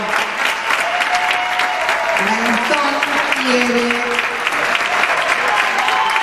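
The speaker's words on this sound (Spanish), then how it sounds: "Ahí está, el aplauso." Applause from a tango championship audience fills the stage hall after a couple's qualifying performance, a steady dense clatter of many hands, loud and continuous, while an announcer speaks over it.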